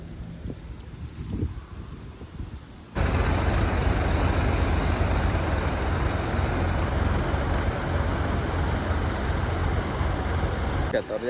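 Two tractors arrive on a farm field: a steady, loud engine rumble kicks in after a quieter windy stretch and carries on to the end, mixed with wind buffeting the microphone.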